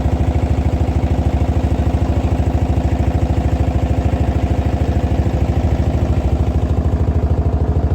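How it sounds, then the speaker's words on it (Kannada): A motor boat engine on the river at Kashi putters steadily at close range, a loud, even low-pitched chugging with a fast regular pulse that holds unchanged throughout, with no voices over it. "ಬೋಟ್ ಮೇಲೆ ಹೋಗ್ತಾ ಇದ್ದೀವಿ."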